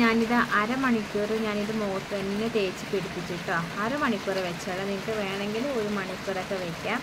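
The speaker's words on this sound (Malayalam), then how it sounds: "ഭയങ്കര മഴയൊക്കെ പെയ്യുന്നുണ്ട് കേട്ടോ" Heavy rain pours down in a constant broadband hiss and patter behind someone speaking close and clearly throughout.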